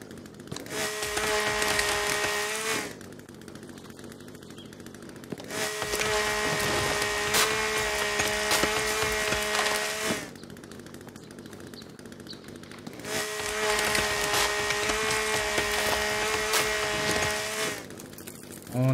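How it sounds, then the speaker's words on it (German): A chainsaw in The Forest cuts a tree trunk in three long bursts of loud, steady buzzing whine, separated by short quieter pauses. "Nochmal die Kettensäge."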